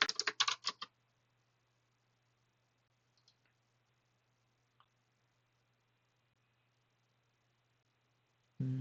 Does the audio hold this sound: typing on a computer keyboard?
yes